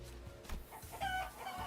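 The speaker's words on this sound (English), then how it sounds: "We see live chickens whose wings and legs are being sliced endlessly." Chickens cluck and squawk in the video game Limbus Company, a few close, distinct fowl calls over a low droning background, rising in short bursts toward the end.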